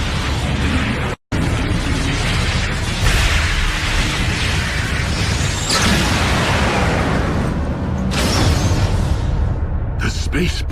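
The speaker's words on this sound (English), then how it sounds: "Space bridge explosion." A space bridge explodes in the Transformers Prime animated series, a loud, sustained roaring blast with whooshing bursts and booms filling the whole stretch, briefly cut by a moment of silence.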